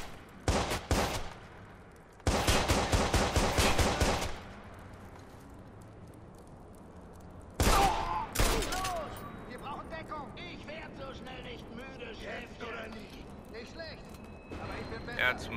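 Bursts of rapid automatic gunfire in the video game Watch Dogs crackle in sharp clusters between quieter stretches, with a heavier boom midway, game effects and voices underneath.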